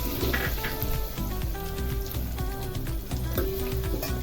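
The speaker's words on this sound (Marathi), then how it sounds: "बारीक चिरलेला कांदा टाकायचा आहे आणि कांदा चांगला भाजून घ्यायचा आहे।" Finely chopped onion frying in a pan for Kolhapuri tambda rassa, a steady close sizzle running through with a dense, constant hiss and faint clinks of utensils, no voices.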